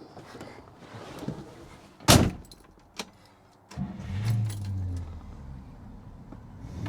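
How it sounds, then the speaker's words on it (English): A 1963 Buick Riviera, a California original, with a door thud and key jingle, then the engine cranking and catching, settling into a steady low idle close by. "I'm going to fire it up so you can hear it running"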